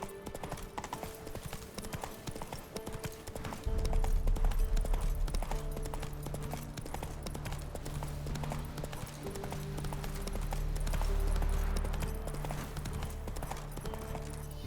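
Geralt's horse Roach galloping in The Witcher 3, a fast steady drumming of hoofbeats up close, with a deep rumbling swell entering partway through and running under the pounding rhythm to the end.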